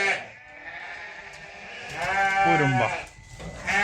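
Pregnant ewes in a flock for sale bleat up close, with one long, wavering bleat rising after a quieter start and another cry beginning at the end; someone speaks briefly.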